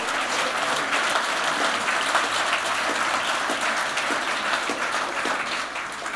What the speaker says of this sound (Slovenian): aplavz za Simono.